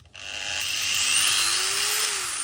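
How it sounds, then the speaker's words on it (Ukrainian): An angle grinder with a soft-start feature spins up, its motor whine rising gradually to a steady, loud, high-pitched hum that holds close and alone. "Ось так стартує болгарка з плавним пуском."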